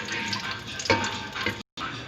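Whole chillies frying in a pan give a steady, bright sizzle with a few louder crackles and a brief moment of silence near the end.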